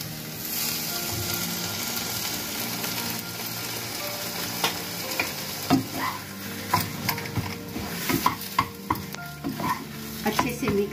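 Potatoes for a masala dosa filling fry in a pan over medium gas flame, a constant sizzle broken up by the clatter of a spatula stirring and scraping, growing busier toward the end.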